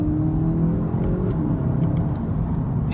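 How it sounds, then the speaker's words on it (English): A GTE hybrid car's engine hums after a downshift, a low steady revving note heard from inside the cabin, with faint clicks and no talk. "if I change down a couple of gears, you should be able to hear the engine note."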